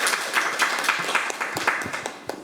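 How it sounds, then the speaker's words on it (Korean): Applause from the audience at a medical innovation policy forum, a full crowd clapping steadily and fairly loud for a couple of seconds before it tapers off slightly. "여러분 큰 박수로 맞이해 주시기 바랍니다."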